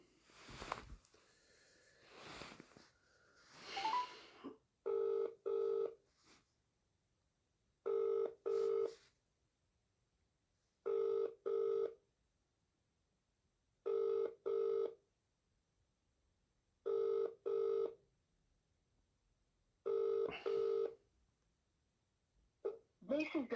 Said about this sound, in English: Ring you up, Christopher Browell.